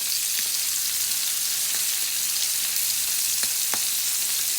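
Scallops searing in a pan make a steady, loud, hissing sizzle that runs throughout, broken by a few faint crackles and pops, with no one speaking.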